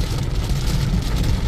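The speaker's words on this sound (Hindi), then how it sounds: "यहाँ पे इतनी तेज बारिश है कुछ दिख ही नहीं रहा है" Heavy rain pounds a car driving through a downpour with wipers at full speed, a steady dense wash of noise over a low road and engine rumble, continuous and close.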